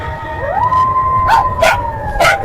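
A jackal's long, wavering howl rises and holds steady, joined by a few short sharper yelps, fairly close and loud over a low background hiss.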